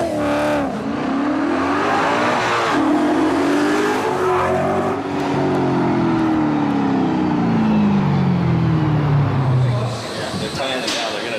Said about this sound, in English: Magnaflow system after.